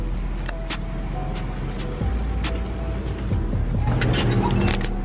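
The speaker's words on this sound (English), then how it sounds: "This is the gas station." Cars idle and move around a gas station, with a steady low engine rumble, occasional tire noise and scattered sharp clicks and knocks. The scene sounds moderately close and no one speaks.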